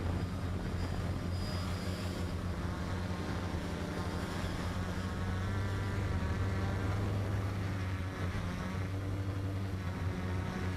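An XK Detect X380 drone flies steadily in a first-day flight, its motors and propellers giving a constant loud whirring buzz that holds throughout without pause.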